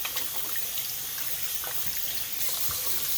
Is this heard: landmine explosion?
no